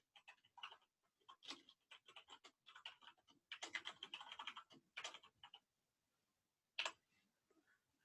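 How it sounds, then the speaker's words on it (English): Keys clatter on a computer keyboard in quick, uneven bursts of typing that stop and start, close by, with a single sharper tap near the end. "I'm having a rough go typing today for some reason."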